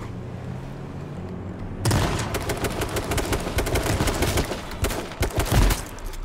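Shotgun fire in an H1Z1 doubles match: after a quiet opening, loud rapid shots crack one after another and blend into a dense, continuous burst of gunfire until the end.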